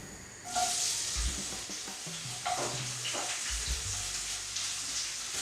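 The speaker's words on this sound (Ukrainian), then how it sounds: "цибулю і часник відправляю в сковорідку" Onion and garlic hit a hot frying pan and start sizzling, a steady frying hiss with occasional clinks and scrapes of stirring close by.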